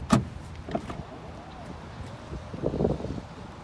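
The power liftgate of a 2016 Chevrolet Suburban runs with a soft motor whine between a thunk at the start and clunks near the end, close by and fairly quiet.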